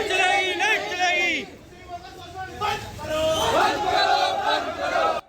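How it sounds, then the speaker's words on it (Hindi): An angry protest crowd in Uttarakhand chants slogans loudly, voices rising and falling in waves of shouting with overlapping cries throughout. "गुंडागर्दी नहीं चलेगी जैसी नारेबाजी आक्रोशित भीड़ कहां और क्यों लगा रही है?"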